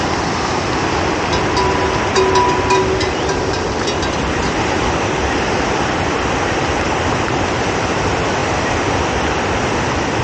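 Loud, steady rushing of a mountain stream on a trek near Solang Valley, Manali, in Himachal, filling the whole scene with dense broadband noise, plus a few faint high clicks; no voices.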